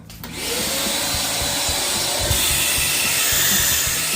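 Vacuum cleaner suction through a Bosch dust pad attachment, a loud steady broadband whoosh that starts after a brief quiet moment and keeps running evenly to the end.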